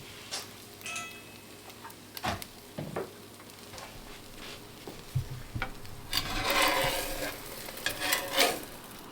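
An omelet cooking in a pan on a homestead stove, a quiet close sizzle with scraping and stirring strokes from a utensil, building to a louder sizzle burst near the end, no talking.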